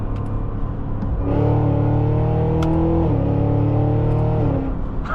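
A 2026 Cadillac Escalade-V rumbles loudly at close range, its deep engine note rising into a sustained rev for a few seconds before easing back to a heavy idle.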